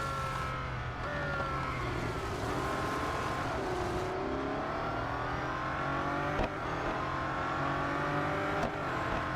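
Race car engines whine in Real Racing 3 gameplay, a continuous rising and falling drone as gears shift, with other cars' engines layered close by and occasional sharp clicks.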